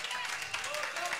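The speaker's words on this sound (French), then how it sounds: "On peut applaudir très fort pour le pasteur Vincent Capé." An audience at a church gathering claps continuously for a pastor, a dense, steady patter of many hands with a voice briefly audible in the mix.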